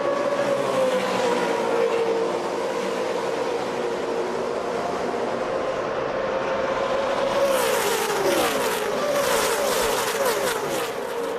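Pack of NASCAR Camping World Truck Series race trucks roaring away under green flag at Talladega, a loud continuous engine drone rising in pitch as the field accelerates, with layered exhaust tones passing close.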